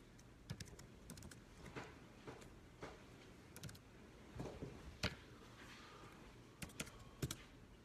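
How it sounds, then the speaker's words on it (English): Keys tapped on a computer keyboard in irregular bursts of clicks, fairly close and quiet, with brief pauses between runs of keystrokes and no talking. "Okay, I'm typing."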